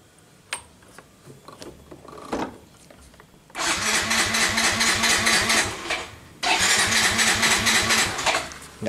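A Yamaha Mio M3 scooter that will not start is cranked by kickstarter. Loud rapid mechanical chattering comes in two long bursts, with scattered clunks before them, and the engine never catches.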